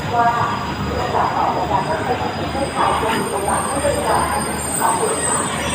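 Train no. 83 from Bangkok to Trang rolls into Nakhon Pathom station with a continuous rumble of wheels and carriages, faint squeals and clatter, plus crowd murmur and voices around the platform.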